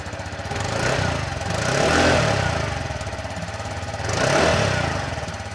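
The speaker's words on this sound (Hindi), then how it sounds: "तो आइडल कंडीशन में इस तरीके का एग्जॉस्ट नोट मिलता है।" A TVS Jupiter 110 scooter idles with a steady, close-up putter from its small single-cylinder engine, rising gently into a few soft swells of revs before settling back.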